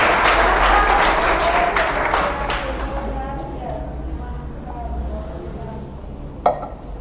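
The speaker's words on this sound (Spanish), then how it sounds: "¿Cuántos le dan un aplauso a Jesús?" Loud church congregation applause fills the opening seconds, then thins into scattered clapping under a murmur of voices as it fades.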